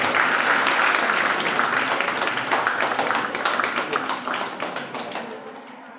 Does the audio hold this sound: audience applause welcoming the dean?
yes